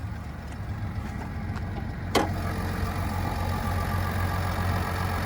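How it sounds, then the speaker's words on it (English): A 2022 GMC Sierra 1500 Limited SLT with the 3-liter Duramax diesel runs with a steady low drone heard from inside the cab, broken by one brief click midway, with no talk. "But there's that 3-liter Duramax."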